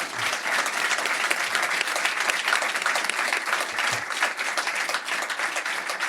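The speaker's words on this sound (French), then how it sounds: "Je crois qu'on peut applaudir nos invités" An audience applauds the guests of a sailing talk show with continuous, lively clapping that stays fairly constant and close throughout, with a few low thumps mixed in.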